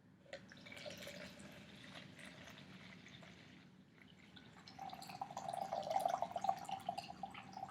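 Water dripping off a hand and arm during an upper-limb assessment, faint, steady small drips that grow slightly louder toward the end over a quiet room background.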